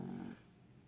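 A dog snores once, a short low rumbling breath up close that fades into quiet, soft breathing.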